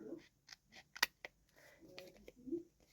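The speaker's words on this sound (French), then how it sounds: "Ensuite, on va couper là." Paper being cut with scissors while crafting a page, a few quiet separate snips and crisp cuts at close range with faint handling rustle between them.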